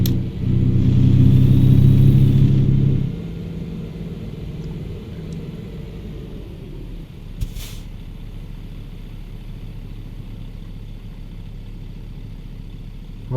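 A truck engine rumbles loudly in American Truck Simulator, heavier for the first three seconds and then settling into a steadier, quieter drone with a brief click near the middle.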